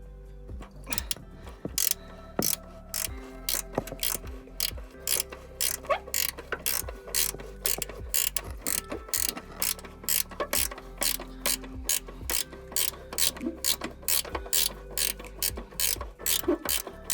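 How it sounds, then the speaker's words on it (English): A ratchet wrench clicks steadily back and forth while loosening the upper control arm bolt on a Nissan 350Z, a rapid, loud and close run of repeated pawl clicks in short bursts with no talking. "do the old backwards and forwards on your spanner or ratchet, whatever you're using"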